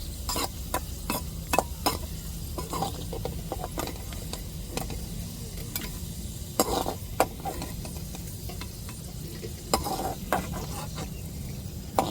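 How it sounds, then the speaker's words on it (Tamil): Cashews fry in a pan for milk payasam, a steady close sizzle punctuated by frequent sharp clicks and scrapes as a spoon stirs them continuously, with no voices. "இப்போ முந்திரியவும் வறுத்து எடுத்துக்கிடுவோம்"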